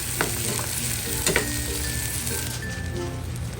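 A cheesy, spicy garlic shrimp sauce simmers and sizzles in a pan with a steady crackling bubble, broken by a couple of brief clinks of a utensil, close and continuous without talk.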